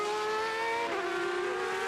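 Superleague Formula race cars on circuit, their high-pitched engines droning with strong tonal whine; pitch shifts as cars change gear and pass, loud and continuous.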